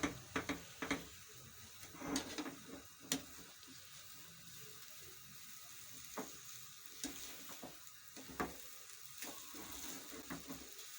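Spice masala with red chili powder fries in a pan for sweet potato and potato kebabs. It sizzles softly throughout, with scattered clinks and scrapes of stirring.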